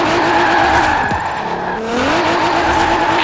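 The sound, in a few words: car drifting with tire squeal in Forza Horizon 4 video game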